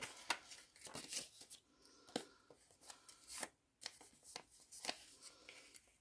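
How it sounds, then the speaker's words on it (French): Euro banknotes are handled while being sorted into a cash envelope: quiet close crisp rustles, flicks and snaps of paper arriving in irregular bursts, with brief pauses between them and no speech. "je vais remplir ma première enveloppe de 40 euros."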